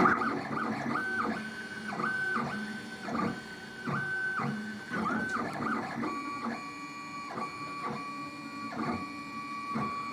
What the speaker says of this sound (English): It sounds like additive manufacturing, 3D printing to me.